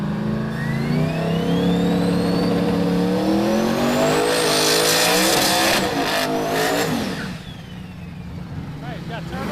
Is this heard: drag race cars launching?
yes